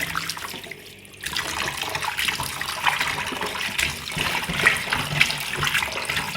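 Tap water runs steadily into a sink while raw chicken is washed in salt water, a close, continuous splashing rush that starts after a brief quiet moment and carries on alone with no talking.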